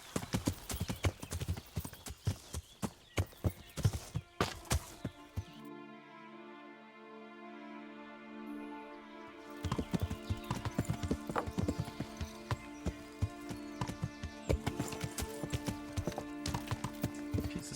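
Horse hooves clip-clop in a quick, uneven rhythm in the medieval game Kingdom Come: Deliverance. A steady tonal music passage takes over midway, and then the hoofbeats return and run to the end.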